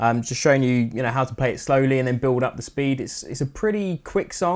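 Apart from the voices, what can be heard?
None of the usual background noises is heard.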